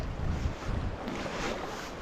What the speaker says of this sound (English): really offensive upstream 30-mile-an-hour gusts